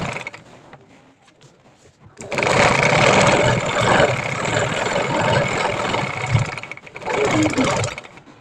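Electric sewing machine stitching a salwar, its motor running in steady loud bursts after a quiet start, pausing briefly near the end before resuming.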